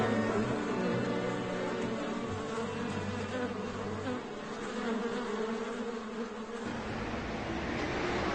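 Honey bees from a professional beekeeper's 200 colonies in the northern Black Forest make a dense, steady buzzing drone. It is close and continuous, with a low hum that fades partway through, and no one speaks.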